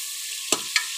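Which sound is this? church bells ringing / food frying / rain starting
food frying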